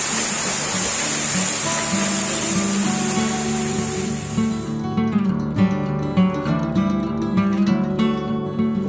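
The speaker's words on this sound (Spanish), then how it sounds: "nos encontramos en la Cascada Sota" Sota waterfall near Taquil in Loja, Ecuador, roars as a broad steady rush of falling water. After a few seconds the rush is partly masked by a tonal musical layer.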